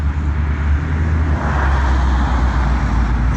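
A custom-built pickup truck from a car show drives steadily past nearby, its loud continuous engine and road rumble filling the whole stretch with no talk.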